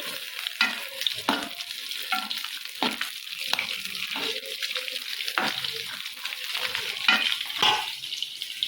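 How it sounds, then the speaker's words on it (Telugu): Chicken pakoda is deep frying in hot oil in a home kitchen, with a continuous sizzle and bubbling. Repeated sharp scraping and stirring knocks from a spoon against the pan break in throughout, close and fairly loud. "నేనైతే పకోడీ అయితే ఫ్రై చేస్తున్నాను."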